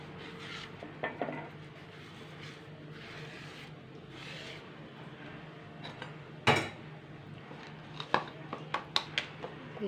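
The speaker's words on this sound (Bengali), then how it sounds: "তাওয়াটা চুলায় দিয়ে একটু গরম করে একটা টিস্যুর সাহায্যে একটু তেল দিয়ে নেব" An iron griddle pan set onto a stovetop and wiped with oil on a tissue for making onion pitha: quiet scraping and rubbing with a few sharp metallic clanks and knocks, most distinct in the second half.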